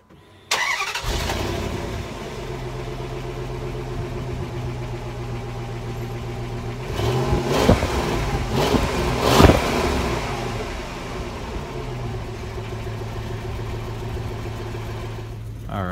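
A 2006 Dodge Durango SLT with a four-speed automatic cranks and starts, settles into a deep idle, then revs several times in sharp bursts before dropping back to a steady rumble.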